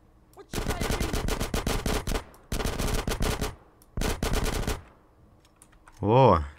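Automatic gunfire in GTA San Andreas Definitive Edition: three long, loud bursts of rapid shots separated by short pauses, followed by a brief electronic swoop near the end.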